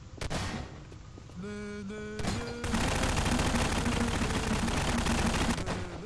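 Gunfire in the video game Prop Hunt, rapid sustained bursts that grow denser and louder partway through, layered over steady background music, with a brief exclamation.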